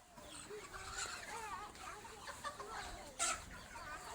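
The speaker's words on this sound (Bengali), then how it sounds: "মুরগির খামারের মুরগিগুলো সব বড় হয়ে গেছে।" Full-grown chickens at a village poultry farm cluck and murmur in a low, continuous chorus, faint and somewhat distant, with one sharper call near the end.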